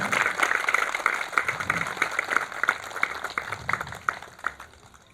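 A yoga day audience gives a guru a warm welcome with a room full of hands clapping, a dense, fairly close patter that gradually thins and softens over a few seconds.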